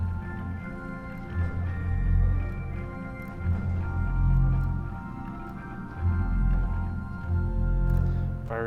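Cathedral pipe organ sounding a 2-foot principal stop combined with an 8-foot stop, sustained bright chords with a strong low foundation swelling and shifting over several seconds, no talk.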